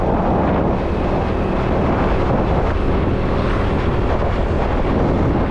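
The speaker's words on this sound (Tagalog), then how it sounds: "May helicopter mo sa taas." A helicopter passes overhead at a scenic outdoor spot, its rotor noise blending into a steady, loud broadband roar with heavy wind buffeting the microphone for the whole stretch, no voices present.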